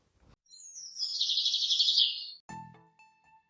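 A bird sings a fluttering run of high chirps lasting about a second, then a few short tonal notes follow after a brief gap, clear and close in a quiet setting.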